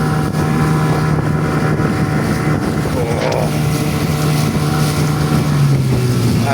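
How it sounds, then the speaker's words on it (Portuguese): A light motorboat runs fast on an outboard held below half throttle, a steady loud drone under wind buffeting on the microphone, continuous throughout. "É que nesse motor eu tô nem meia força. Que o barco é leve, então vai muito rápido."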